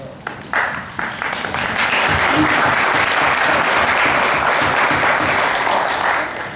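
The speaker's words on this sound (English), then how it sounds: "one more round of applause for our panelists" Applause breaks out for panelists at an interfaith dialogue event, starting with a few scattered claps, then swelling into a full, loud, sustained ovation from the audience that eases slightly at the close.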